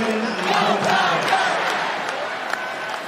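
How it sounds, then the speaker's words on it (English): A large crowd roars and cheers in a college football stadium at Clemson during a Furman vs. Clemson game, a loud sustained wash of voices with whoops. "It's always a great crowd here at Clemson."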